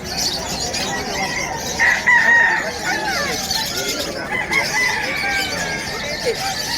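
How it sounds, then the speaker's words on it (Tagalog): A rooster crows loudly over a chorus of clucking chickens at an animal market in Bocaue, Bulacan, close by, with faint voices in the background. "Galing Pampanga yung mga ibon. Yung mga manok."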